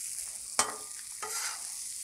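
Butter hits a hot griddle beside pierogies with a sharp sizzle, then frying hisses steadily with a second surge of crackle partway through, close and alone.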